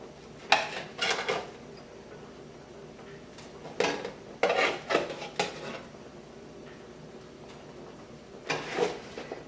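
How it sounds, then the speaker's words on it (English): Meatballs dropped into a pot of homemade meatball vegetable soup, heard as a few short clinks and clatters of utensil against the pot in scattered bursts, fairly quiet in a home kitchen. "So now I'll take the meatballs and place them in my pot."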